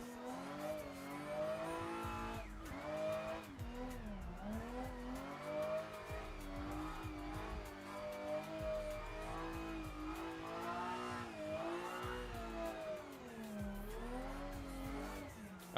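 A race car in the Assetto Corsa video game holds a high, continuous engine note that rises and falls through gear changes while its tires squeal through corners, steady and prominent throughout.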